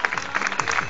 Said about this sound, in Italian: Voglio fare un applauso alla responsabile del centro benessere